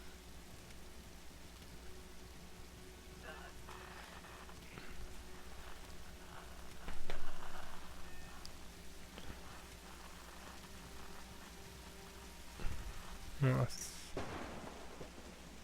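Rain patters steadily in the video game Tomb Raider 2013, with two low rumbles of thunder, the first swelling midway and another near the end, while someone speaks briefly.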